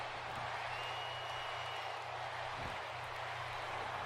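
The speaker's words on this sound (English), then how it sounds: "chants echoing through the University of Dayton Center Arena" An arena crowd in the WWE 2K18 wrestling game, set in the University of Dayton Center Arena, makes a steady low roar of chanting and cheering beneath a commentator's voice.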